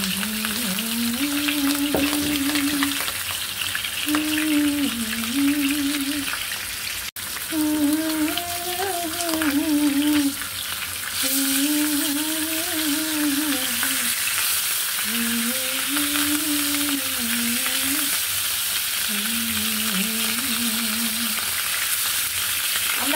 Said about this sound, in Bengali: মাছটা কড়া ভাজা দিব না, হালকা করে ভাজা দিচ্ছি।